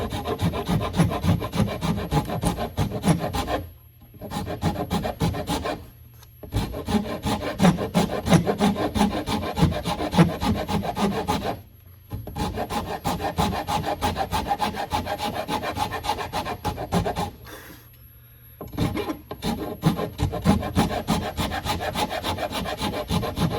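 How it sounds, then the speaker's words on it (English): A rasp carves the wooden heel block of a guitar neck in long, rhythmic rasping strokes. The strokes run close and loud, broken by a few short pauses, with no talk. "I'm gonna start with a rasp."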